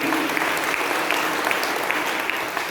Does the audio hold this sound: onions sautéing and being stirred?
no